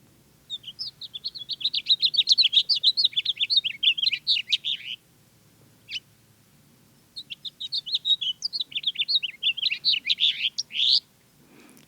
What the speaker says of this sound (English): That is a house finch.